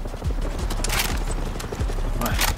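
Bursts of rapid gunfire crackle in Far Cry 6 on PS5, with a couple of sharp volleys over steady background noise and thudding effects.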